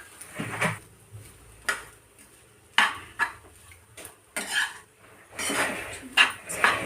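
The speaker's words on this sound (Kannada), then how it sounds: "ಚೆನ್ನಾಗಿ ಇದನ್ನು ಮಿಕ್ಸ್ ಮಾಡ್ಕೊಳ್ಳಿ" A spoon scrapes and clinks against a pan while stirring a chicken fry mixture of pepper and ketchup, in irregular bursts of metallic scraping and tapping, close and fairly quiet.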